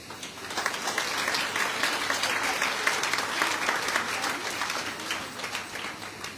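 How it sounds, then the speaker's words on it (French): Sustained applause from a large audience, a dense even patter of many hands clapping continuously at moderate loudness. "vous pouvez continuer d'applaudir"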